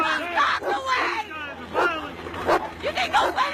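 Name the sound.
attack dogs barking at protesters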